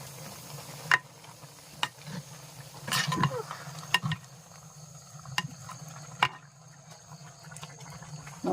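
Dried mackerel and colocasia stem curry stirred in a pot, Kerala village style: a spoon knocks and scrapes against the vessel in several sharp clinks over a low, steady sizzle, close and fairly quiet.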